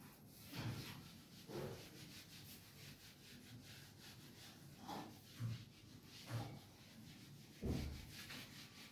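A board is being wiped clean of writing during a Class 10 statistics lesson. Several separate rubbing strokes come at uneven intervals against a steady low room hiss, with no voice during the wiping.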